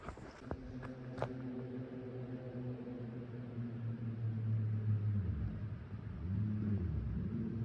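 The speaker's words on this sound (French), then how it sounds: "Il y a un mec qui est en train de se faire un circuit de racing sur la route parce qu'elle est fermée." A sports car races along a closed interstate, its engine note droning and shifting in pitch as it revs and moves off, steady and moderately loud at a distance.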